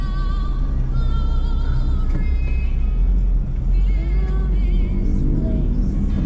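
Jeepneys and other vehicles pass along a busy street, a continuous loud rumble of engines and traffic with occasional horn-like tones, heard from close by.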